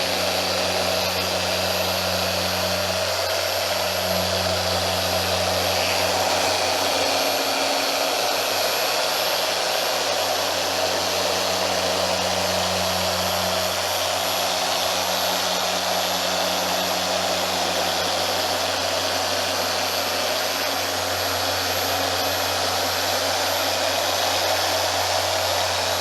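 A Griot's Garage 3-inch polisher runs steadily at speed 5 with light pressure, giving a constant close whirring drone with a low motor hum and no pauses or talk.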